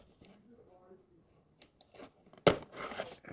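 Tape tearing sharply off a Lego book's packaging, a loud rip near the end after quieter crinkling and rustling, with a person talking softly under it.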